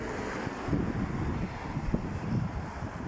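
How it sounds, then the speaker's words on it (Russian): Wind blusters outdoors on an overcast day on a road near Yekaterinburg, a steady broadband rush with low buffeting gusts against the microphone, alone with no voices. "Ветер, ветрено сегодня, пасмурно"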